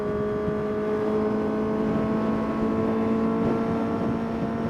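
A Suzuki GSX-S motorcycle engine holds a steady, high-revving drone for several seconds, loud and close, with no clear rise or fall in pitch.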